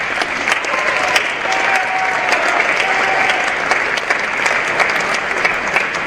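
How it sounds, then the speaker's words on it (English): A roomful of people applauds athletes at a signing day ceremony, a thick continuous wash of clapping at steady strength throughout, with scattered sharper claps standing out. "if everybody would go ahead and give these guys a round of applause"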